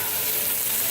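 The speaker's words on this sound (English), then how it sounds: "So now I'm going to dump in our onions." Onions dropped into a hot, smoky pan with browned fond from searing pot roast beef give a loud, steady hiss and crackle, close and continuous, with no talk.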